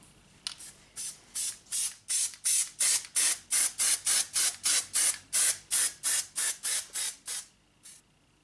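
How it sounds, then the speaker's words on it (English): Rapid, evenly spaced hissing bursts from a can of spray adhesive, close up, about twenty short sprays in a steady rhythm with brief pauses between, coating the backs of parts from a Honda Accord rear door. "I'm just going to take a little bit of spray adhesive. I'll spray the back of these."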